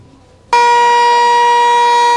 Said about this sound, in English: Loud sirens sounded from the Westlake chemical plant.